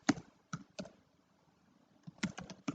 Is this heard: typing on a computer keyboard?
yes